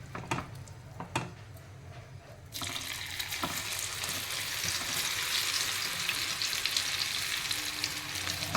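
Gobi 65 cauliflower pieces frying in a second batch of hot oil, starting with a few sharp pops and then swelling into a dense, steady, close sizzle that continues on its own.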